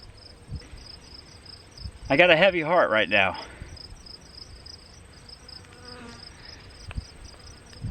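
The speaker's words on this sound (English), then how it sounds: "The crickets are chirping." Crickets chirp in a steady, rapid high pulse throughout a quiet outdoor setting while someone speaks briefly partway through.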